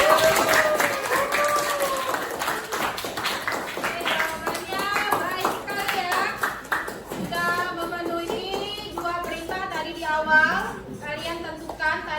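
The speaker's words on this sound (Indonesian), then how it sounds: "kasih aplaus dulu dong untuk Satria" A classroom breaks into applause for a student named Satria: a burst of clapping that fades out, with a teacher's voice and students talking over it.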